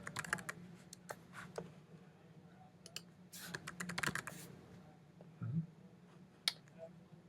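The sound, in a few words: typing a password on a computer keyboard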